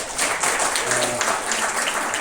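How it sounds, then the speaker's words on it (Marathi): An audience at the inauguration ceremony for a multipurpose sports turf applauds the federation treasurer with a steady wash of crowd clapping, with some voices mixed in. "त्यांच्यासाठी पण जोरदार टाळ्या वाजवा"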